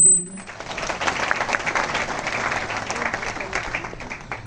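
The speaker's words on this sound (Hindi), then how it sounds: "चलो तालियां बजाओ" Students in a classroom clap together on the teacher's cue after an answer, a brief burst of mixed, fairly close hand claps that stays at an even level for a few seconds.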